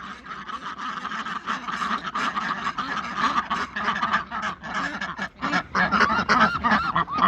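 Loud honking and quacking from a group of domestic ducks near a pond on a homestead, dense and continuous calls overlapping throughout, close by.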